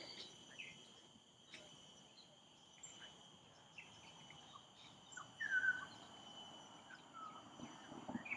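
Birds call in a quiet nature park in Singapore. A few faint, scattered chirps rise over a constant high insect and cricket drone, with one clearer call standing out briefly midway.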